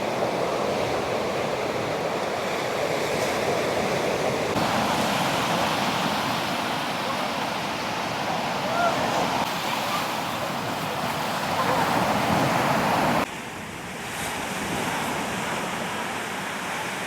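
Ocean surf on a beach in Portland, Jamaica rolls and washes in steadily as a broad, continuous roar, close and fairly loud, with some wind buffeting the microphone.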